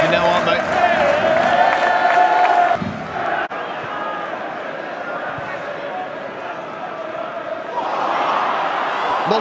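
Wrexham AFC football crowd roaring at a match, loud sustained stadium cheering that dips briefly and swells again, with a commentator talking excitedly over it.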